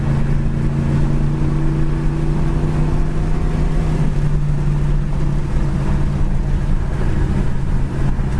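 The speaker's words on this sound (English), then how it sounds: "Dual exhaust sounds good." A 1964 Chevy Impala Super Sport with dual exhaust drives down the road, its steady low exhaust drone holding a constant loud tone for several seconds.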